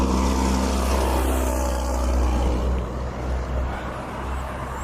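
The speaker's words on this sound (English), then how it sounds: "truck!" A truck passes on a road during an outdoor morning walk, a heavy, steady low engine rumble that stays loud and close throughout, easing slightly toward the end.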